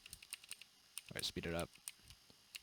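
Keys clacking on a CQ63 wireless keyboard, a run of crisp close-up presses in an irregular rhythm with a brief faster burst in the middle, some taps fainter than others.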